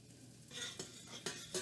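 Garlic and chilies frying in a pan while being stirred, heard as a faint, close sizzle with a few sharp scraping clicks of a utensil against the pan.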